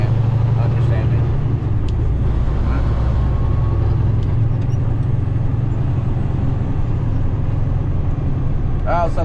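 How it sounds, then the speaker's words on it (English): A heavy farm truck engine drones steadily and loudly from inside the cab on back roads, a constant low rumble with road noise and no pauses. "I also got truck sounds coming through a truck"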